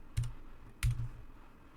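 Two quick, soft key clicks on a computer keyboard while a command is typed, close by and quiet, with a short pause between presses and no voices.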